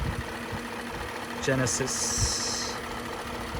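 The 5.0-litre V8 of a 2020 Genesis G90 idles as a quiet, steady low hum beneath a voice.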